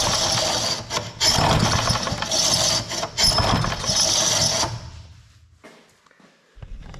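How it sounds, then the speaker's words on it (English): A 1955 Firestone push mower engine cranks in loud, rough bursts with brief breaks, struggling but not catching, then falls away to near quiet with faint handling clatter. "I'm going to try firing it up one more time."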